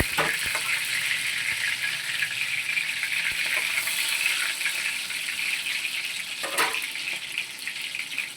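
Prawn and pumpkin-flower fritters fry in oil in a continuous bright, crackling sizzle, with a few clinks of a utensil. The sound is close, with no talking.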